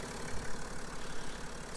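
A BMW X5 40d with a 3-litre twin-turbo diesel engine idles steadily, a dense, even mechanical rumble with slight rhythmic pulsing, close and continuous with no talk.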